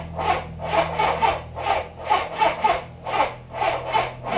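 A 1983 Suzuki GS850 motorcycle engine cranks over on the starter with a weak battery, giving a steady rhythmic churn of about nine even pulses that stays close and loud, with no running engine and no voices.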